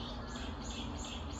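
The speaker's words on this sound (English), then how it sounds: "you hear the birds" Birds chirp outdoors in Busan, their calls faint and scattered over a steady hum of background noise.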